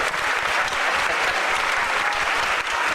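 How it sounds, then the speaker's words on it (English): An audience at a Star Trek-themed Universal Studios show breaks into steady, dense applause, loud and sustained throughout with no talking. "Give him a round of applause"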